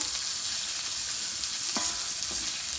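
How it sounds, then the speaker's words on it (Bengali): Onion frying in hot oil for pasta, a steady bright sizzle with a couple of brief stirring scrapes, close and continuous in a home kitchen. "এবারে পেঁয়াজটাকে নাড়ো চাড়ো।"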